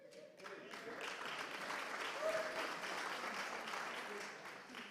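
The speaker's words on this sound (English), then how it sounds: "Big round of applause." A round of applause at a swimming club's annual meeting and awards evening, steady crowd clapping for about five seconds, faint and distant in the room.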